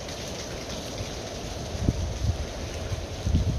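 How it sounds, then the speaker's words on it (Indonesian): Rain falls steadily in Jeddah, a close, even hiss of drops on surfaces with a few soft heavier patters toward the end and no talking. "Hujannya udah mulai reda nih."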